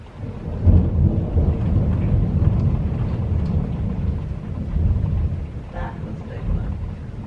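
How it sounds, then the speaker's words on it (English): Rumbling thunder rolls continuously through a lightning storm, with steady rain falling underneath; the low rumble swells and fades across the whole stretch, fairly close and loud, with a few faint voice-like sounds in the background. "lightning storm right now, and it doesn't usually thunderstorm here"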